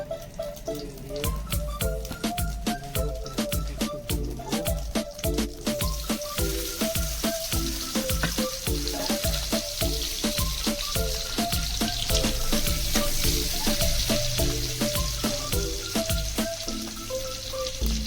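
Egg frying in hot oil for village-style chow mein, a steady crackling sizzle with continuous popping spatters throughout, close and even in level, with faint rhythmic utensil taps.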